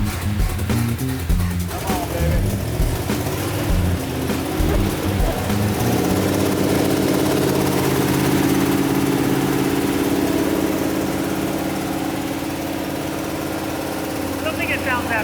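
Engine fitted with a Holley 6BBL carburetor runs loud and steady with a deep idling rumble, while people talk over it in the early part.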